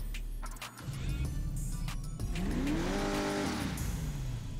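Modified Dodge Hellcat engine in GTA 5, idling low then revving up with a rising, fairly loud whine and roar, settling back down, with no talk over it.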